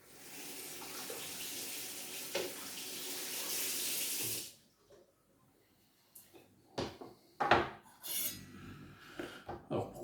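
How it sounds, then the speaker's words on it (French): Tap water runs into a sink as citrus fruit, blood orange among it, is rinsed, a steady splashing flow for about four seconds, then the faucet stops and soft clinks and handling noises follow in a quiet kitchen. "petit coup de rinçage."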